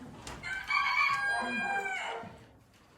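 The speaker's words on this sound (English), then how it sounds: "Mind the chicken, stay." A chicken inside a rural farmhouse near Perugia gives a near, loud crow followed by a drawn-out call that trails off.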